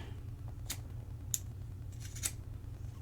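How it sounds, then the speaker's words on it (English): Scissors snipping off the tapered cord ends for a lanyard splice: two or three crisp, close cuts spaced about a second apart over a low steady hum. "I'm just going to go ahead and cut these off. Cut them off clean."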